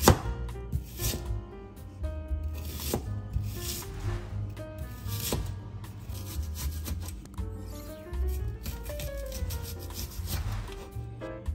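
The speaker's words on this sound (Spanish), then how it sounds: "Ahora sí vamos a picar nuestra cebolla en cuadritos." Onion chopped into small cubes with a knife on a wooden board, a close series of quick, uneven taps and scraping strokes, moderately loud throughout, with no one speaking.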